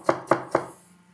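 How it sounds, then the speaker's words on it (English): A knife shreds cauliflower florets finely on a board, three crisp evenly spaced chops in quick succession, close and clear, the last fading into quiet. "Cauliflower, got our florets. Just gonna finely shred them."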